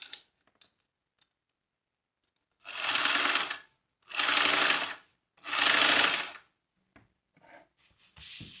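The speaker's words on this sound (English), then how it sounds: "now we're going to sew this together at 3/8 of an inch seam allowance" A sewing machine stitches a fanny pack seam at a 3/8 inch allowance in three short bursts of close, loud motor whirring separated by pauses, with light clicks and handling sounds around them.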